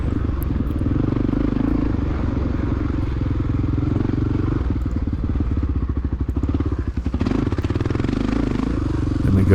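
A Honda XR600R dirt bike roars steadily at close range during a cross-country race across a field, the engine note holding loud and continuous with brief dips and surges as the rider works the throttle.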